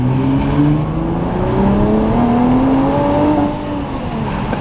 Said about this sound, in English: The acceleration in the GT-R is unlike anything else.